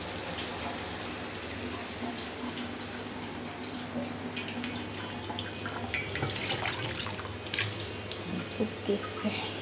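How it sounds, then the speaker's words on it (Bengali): Water runs steadily into a cooking pot of potatoes fried with spices for a hilsa fish curry, a continuous splashing pour with faint drips over low kitchen background noise. "এবার পানি দিয়ে দেবো।"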